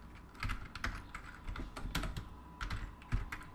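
Steady typing on a computer keyboard while entering Python code for a terminal calculator, with irregular clusters of close, crisp key clicks and occasional heavier keystrokes throughout.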